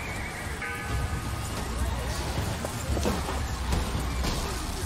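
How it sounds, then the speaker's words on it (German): A mechanical horse in the video game Bioshock Infinite gives a loud neigh and whinny over clip-clop hooves, with a voice talking alongside. "Der automatische Hengst. Das Pferd der Zukunft."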